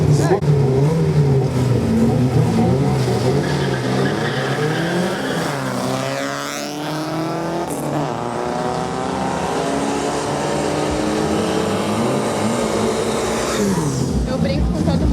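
A Volkswagen Gol drag car launches and accelerates down the strip at a drag racing festival, its engine rising through several loud, sweeping gear pulls, with a commentator talking over the roar and a rising squeal near the end.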